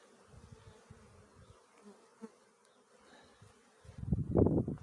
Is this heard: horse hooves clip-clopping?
no